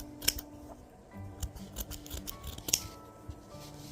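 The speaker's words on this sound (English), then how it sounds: "grab the felt, green felt, cut out a little bigger square" Scissors snip through green felt to cut out a square, giving quiet close crisp clips and rustles in an irregular series over a few seconds.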